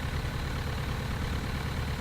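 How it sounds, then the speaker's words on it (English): An engine in a video game runs at a steady, low rumbling idle, an even mechanical drone with no changes in pace and no talking. "Okay, good, our engine's running."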